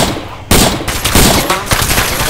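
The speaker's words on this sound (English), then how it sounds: "I shot my camo net down." Loud, close automatic gunfire in the survival game DayZ, rapid bursts of shots cracking one after another and starting abruptly, with no pause through the whole stretch.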